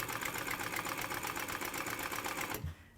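A slipcover seam being stitched on a sewing machine at an upholstery shop: a steady, fast mechanical whirr runs loud and unbroken, then stops abruptly near the end, leaving a faint room hush.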